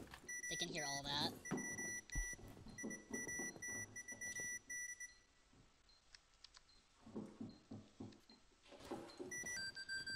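Proximity alarm in Rainbow Six Siege, a series of thin, evenly repeating electronic beeps that keep going through gunfire, game effects and players talking.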